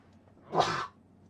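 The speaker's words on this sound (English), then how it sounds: "I cannot stop sneezing today" A single sharp sneeze bursts out close to the microphone, brief and loud, with near silence before and after.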